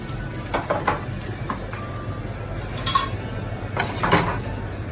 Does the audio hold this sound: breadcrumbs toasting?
yes